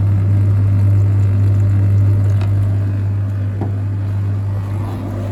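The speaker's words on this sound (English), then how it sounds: "I can hear it pumping, I can hear the water coming out above" A steady low mechanical hum of a Beko heat pump tumble dryer's pump running, with a faint trickle of water underneath, continuous and fairly close.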